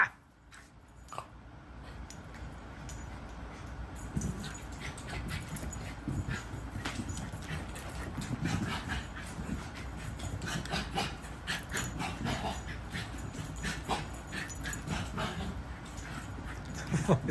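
A dog named Moxie scuffles and rubs against something nearby with restless scraping movements, letting out soft whimpers now and then. A voice murmurs faintly in the background.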